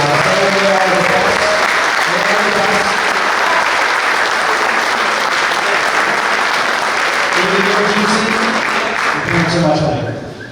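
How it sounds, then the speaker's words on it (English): A loud, sustained round of applause fills a room at a boys lacrosse team banquet in Baldwinsville, dense clapping from many hands with speaking voices underneath, fading out at the end. "Give a huge round of applause for Sales Pizzeria."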